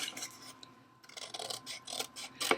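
Scissors snip around a stamped paper label, making a series of close, crisp cutting and rubbing sounds in an uneven rhythm, with a short pause midway and no talk.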